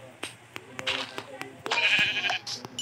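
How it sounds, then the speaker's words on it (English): Short sheep bleats from Minecraft, a few quiet bursts among tapping game sounds and clicks, with a voice speaking faintly over part of it. "Oh, this is the sheep."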